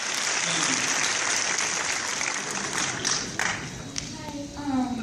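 A crowd claps at a Dallas Comic-Con sci-fi expo panel, a thick, sustained applause that thins a little toward the end, with faint voices and a few tonal sounds emerging beneath it.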